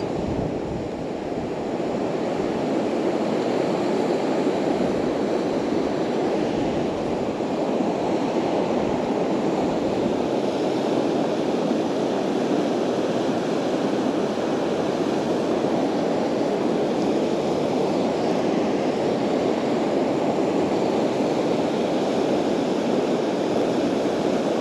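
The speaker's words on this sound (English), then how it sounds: "so a good rush of water coming through there" Rushing water on the River Doon in Scotland, a fishing river with sedges on the water, roars as a steady broadband wash with no pauses, loud and continuous throughout with no voices.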